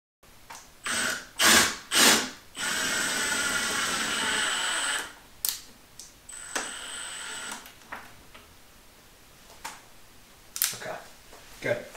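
Screws driven into an IKEA kitchen countertop used as a desk, several short bursts of a power driver followed by a longer steady whir, with intermittent talk and clicks afterward.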